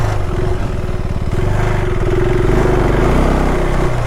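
The engine of a KTM 390 Adventure R motorcycle revs in snowy backcountry, loud and close. It gives a steady, throbbing mid-pitched drone with slight rises in revs and no voices over it.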